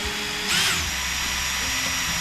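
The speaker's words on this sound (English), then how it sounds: "I'm gonna use a cordless drill with a small screwdriver tip" Cordless drill fitted with a small screwdriver tip whirs steadily while backing screws out of a Shimano Tyrnos fishing reel, a close continuous motor whine with a brief louder rise near the start.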